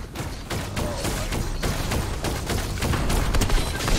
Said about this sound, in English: Right, I can shoot a bazooka.